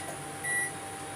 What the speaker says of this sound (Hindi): ये माइक्रोवेव में मैं दूध गर्म कर रही हूँ